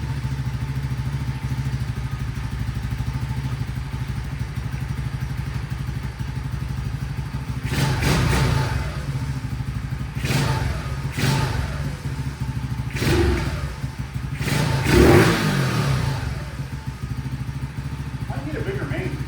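A cold CT70 clone motorcycle engine fitted with a Nibbi carburetor idles steadily, then takes several sharp throttle blips that rev up and fall back, loud and close, before settling again.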